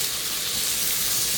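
Mushrooms fry in a pan with a little added fat for a keto pork chop cream sauce, giving a steady, dense sizzling hiss heard close and alone.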